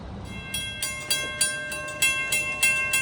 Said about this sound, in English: the gates are going down for train number 5